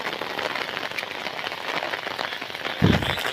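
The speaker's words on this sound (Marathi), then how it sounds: "पाऊस पडतोय खूपच" Heavy monsoon rain pours down in Konkan, a dense, steady hiss of drops pattering on surfaces with a louder splashing burst near the end; no voices.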